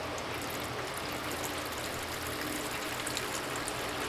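Rinse water from cleaning recovered silver drains steadily into a bucket, a continuous splashing trickle with no voices.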